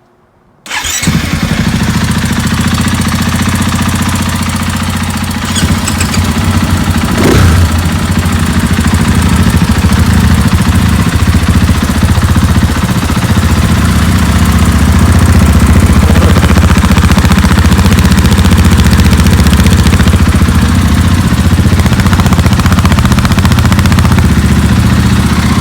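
KTM four-stroke dirt bike engine fitted with a reed valve fires up and runs at a loud, steady, close idle with a raspy exhaust that continues without a break.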